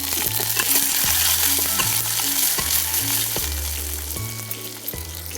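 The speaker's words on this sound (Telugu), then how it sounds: "బాగా వేయించి" Tempering of green chilli slivers and curry leaves sizzles steadily in a pan, stirred with a spoon that scrapes and taps the pan repeatedly in a loose rhythm. The frying is close and continuous, and no one speaks.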